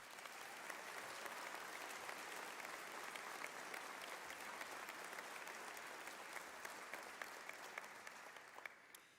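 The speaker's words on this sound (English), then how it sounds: "let's give our recruits that we're here to honor tonight a round of applause as well" Audience applause for police recruits at a community college police academy graduation ceremony, a steady, dense round of clapping from a large crowd that goes on for several seconds and fades slightly toward the end.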